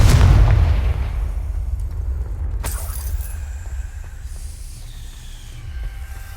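A Confringo blasting spell exploding in a magical open-world video game, a heavy booming blast up front that decays into a long rumbling tail, with a sharp crack and faint debris rattles afterward.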